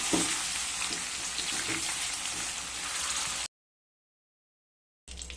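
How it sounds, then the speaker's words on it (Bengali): Paneer fries in oil with a steady, close crackling sizzle for several seconds, then cuts to silence before the sizzle briefly returns. "এবার পনিরগুলোকে ভেজে নেব।"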